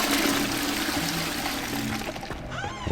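A toilet flushes in Hogwarts Legacy, a steady rushing pour of water that runs for a few seconds, close and fairly quiet, then trails off into a trickle.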